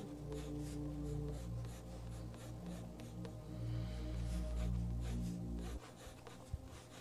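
Pencil rubbing quickly over paper while making a gesture drawing of a figure in a big, baggy outfit, soft scratchy strokes close by over a low steady hum, fading near the end.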